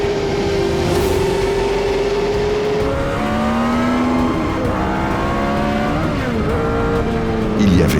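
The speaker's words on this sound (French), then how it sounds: "une démonstration en piste de ces monoplaces des années 70" Several 1970s Formula 1 single-seater race cars scream along a circuit during a track demonstration, high-pitched engines rising and falling as they pass, loud and fairly near, with overlapping cars blending into a steady roar.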